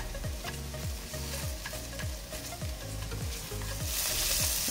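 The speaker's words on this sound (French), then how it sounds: "je vais faire venir mes oignons. On va les faire suer 2-3 minutes" Onions sweating in a cocotte, a steady bright sizzle under repeated rhythmic stirring strokes, growing louder and hissier toward the end.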